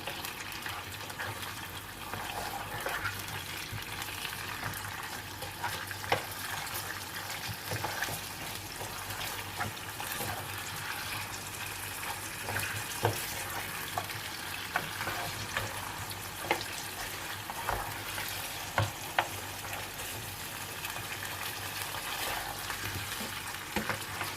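Mutton frying in a pan for bhindi gosht, a steady low sizzle with ongoing stirring scrapes and occasional sharp spatula taps, moderately quiet and continuous throughout, no talking.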